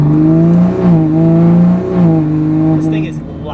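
A loud tuned Toyota Supra, apparently on an ethanol-blend or flex tune, holds a heavy, droning engine note that wavers up and down with throttle, close and steady throughout.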